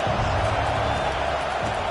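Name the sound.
crowd cheering in a stadium, Madden 22 video game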